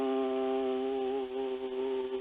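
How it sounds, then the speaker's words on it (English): An Indian drone instrument holds a steady, sustained tone with stacked harmonics, droning continuously at an even level with slight wavering and no talk. "that sound is the sound of the drone, the instrument"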